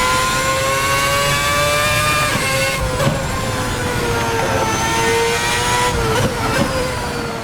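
RSS 2010 V8 race car engine in a sim racing game, revving in a loud, continuous high-pitched howl that holds steady and briefly dips and rises again, with no voices over it.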